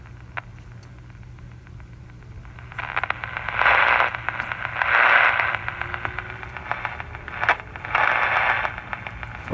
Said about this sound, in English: I hear a little crackling from the speaker.